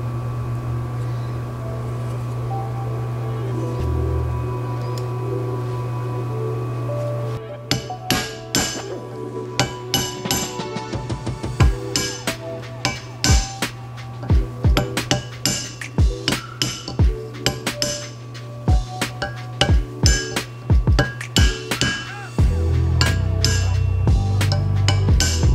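Hammer blows seat a seal onto a Toyota Tacoma front spindle during a front-end rebuild, a long run of sharp metallic strikes in an uneven rhythm, close and loud over a steady background hum.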